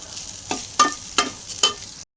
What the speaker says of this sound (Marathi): आता मी याला चांगलं परतून घेतो